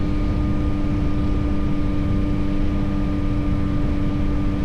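A Yamaha MT-09 V3 motorcycle engine drones steadily while riding, a loud sustained hum with strong tonal harmonics over rushing wind noise, with no voices.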